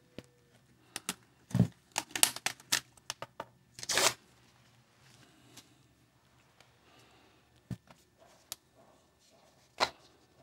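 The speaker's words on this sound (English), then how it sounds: "First thing will be to remove the rubber band and the 3D printed piece, and then hopefully we can just peel out the plaster." Plaster cast being worked free of a silicone mold, with scattered close crinkling, snapping and rubbery peeling noises in quick clusters, then sparse isolated clicks over near silence.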